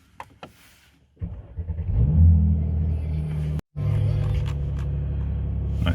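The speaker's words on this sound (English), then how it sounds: "Okay, so the first thing obviously you want to do is turn on the engine." A Mercedes C-Class engine cold-starts after a short crank, catching into a loud, steady idle rumble that carries on with a brief break.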